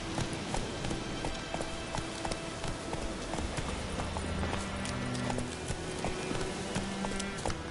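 Rapid galloping hoofbeats from a horse in The Witcher 3: Wild Hunt on PS5, a dense, driving clip-clop rhythm close up and continuous, layered with game ambience and a brief voice.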